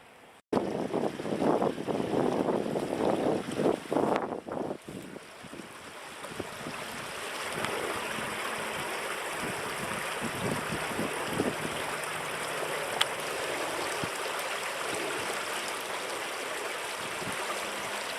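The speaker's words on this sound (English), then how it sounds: "The sight and sounds of a babbling brook." A babbling brook runs over stones, with dirty snow on the banks, on a winter walk between Keyworth and Wysall in Nottinghamshire. Its steady, close rush of water carries on for the whole stretch with no voices, after a brief louder gush at the start.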